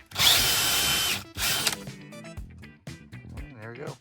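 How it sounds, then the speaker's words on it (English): A power drill bores a hole for cable during a basement entry renovation, whining loudly in two bursts of about a second each, followed by quieter clunks and handling noise. "would have been smarter for me to drill this hole before I put the box on"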